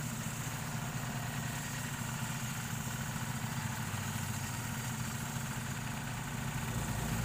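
A Kubota 8.5 HP dompeng diesel engine idles with a steady, continuous low throb and mechanical rumble, close and constant throughout with no voices.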